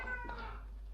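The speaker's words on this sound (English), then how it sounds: "While the cat's going nuts over there." A single brief cat meow sounds faintly from across the room over a steady low hum.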